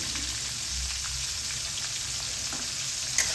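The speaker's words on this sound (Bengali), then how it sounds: "টমেটো নরম হওয়া পর্যন্ত আমি এটাকে কুক করতে থাকবো" Chopped tomatoes fry with a little salt in a pan for a vegetarian aloo dum, giving a steady, even sizzle with a faint stirring clink near the end.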